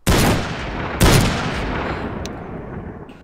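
Gunfire in Garry's Mod DarkRP, two loud close gunshots about a second apart, each followed by a long, slowly fading echoing tail.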